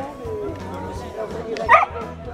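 On a group dog walk in Nilvange, a dog lets out one short bark partway through, mostly buried under nearby conversation and outdoor background noise.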